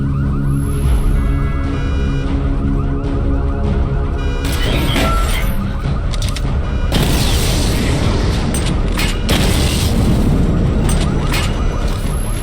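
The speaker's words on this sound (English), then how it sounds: "Destroy targets to charge up weapon energy and activate missile barrage." Missile barrage explosions in Batman Arkham Knight come as loud, heavy booms that burst in clusters over a dense game soundscape of alarms and rumbling noise, strongest in the second half.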